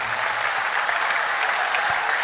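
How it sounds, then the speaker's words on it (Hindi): Loud, steady applause from a large audience at a Hindu religious gathering in Vrindavan, dense clapping filling the whole moment without any talk. "ये एक बार ताली जोरदार बजा करके धन्यवाद दो।"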